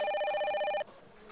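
A telephone rings loudly and steadily in a VR training simulation, a bright electronic bell that stops abruptly partway through and leaves a faint hum.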